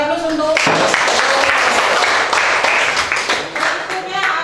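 A classroom full of students bursts into applause, dense continuous clapping starting abruptly after a brief voice and holding steady before tapering slightly at the end.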